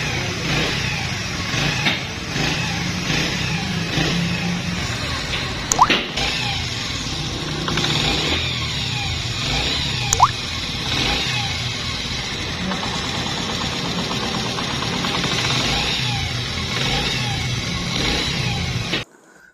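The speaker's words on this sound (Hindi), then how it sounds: "इंजन के अंदर से मुख्तलिफ़ किस्म की आवाज़ें आ रही हैं।" A motorcycle engine idles steadily with knocking and ticking tappet noise, close and continuous, with a couple of sharper clanks along the way.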